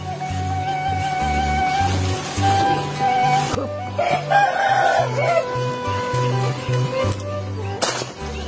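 A rooster crows in a Sundanese village among other chickens, the loud calls rising over music playing steadily in the background, with a little talk.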